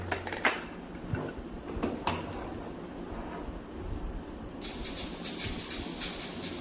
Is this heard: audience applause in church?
no